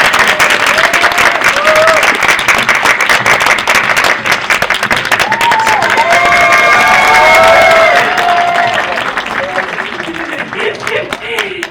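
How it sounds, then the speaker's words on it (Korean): An audience at a film screening Q&A event breaks into loud, sustained applause with some cheering, close and full, while a voice speaks over the clapping before it thins toward the end. "큰 박수 부탁드립니다"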